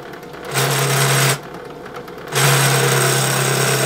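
A hole saw bores into a compact router part, a loud steady whining grind in two long bursts separated by a quieter idling pause, close up with no talking.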